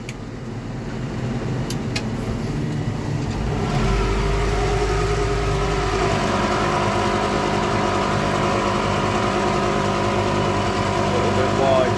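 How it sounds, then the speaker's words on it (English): Macerator pump running on a slurry tanker behind a tractor, a loud continuous mechanical drone that swells after a few seconds and holds steady throughout. "Gate valve back open, macerator back on,"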